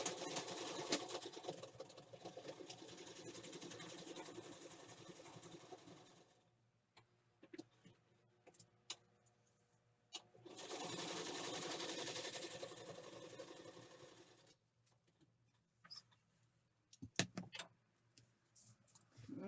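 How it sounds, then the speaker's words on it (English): Sewing machine stitching through pattern paper on a grunge-style journal cover, two long steady runs of whirring stitches separated by a pause with light clicks and handling noises, close and alone. "I'm going to stitch this so that we can put this all together"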